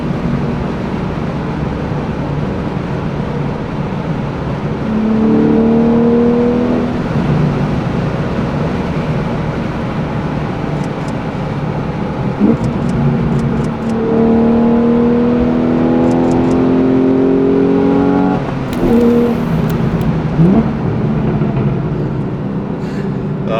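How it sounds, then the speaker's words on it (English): A loud Porsche sports car engine heard from inside, roaring steadily with sharp rev blips as it drops through gears, twice in quick clusters. "These downshifts, the car is just so loud."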